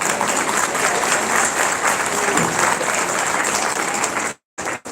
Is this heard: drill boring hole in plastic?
no